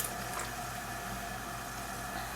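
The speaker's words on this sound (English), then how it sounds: "And as you can see, it's continuing to boil." Pot of water at a rolling boil as cold starch water is trickled in for scenic paint, a soft continuous bubbling hiss, faint and steady, with no voices.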